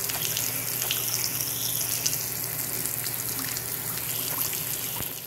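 Water runs steadily from a tap into a sink in a gas station restroom, a continuous close splashing hiss with no speech.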